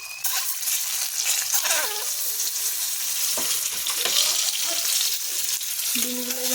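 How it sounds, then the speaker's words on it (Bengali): Eggs frying in a kadai with salt and turmeric for egg curry, a loud continuous sizzle with spatula stirring and scraping, and a few clanks against the pan, no talking. "ডিমগুলো ভেজে নেব আমি।"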